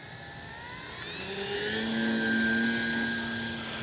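A Dynam Beaver V2 RC airplane flying past, its electric motor a steady whine that rises and sweeps in pitch as it approaches, growing louder toward the middle before easing off slightly.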